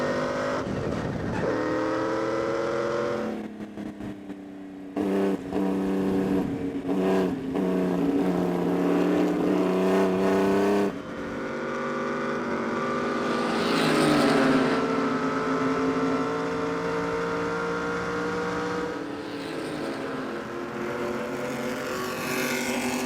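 Formula 1 car driven around Silverstone, an onboard engine note with high revving whine climbing and dropping through gear changes, brief lifts between bursts of acceleration, loud and close throughout.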